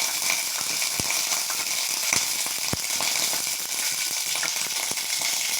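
Cumin seeds sizzling in hot oil in a pan for lemon rasam, a steady crackling fry with a few sharp pops and clicks spread through, heard alone without talk.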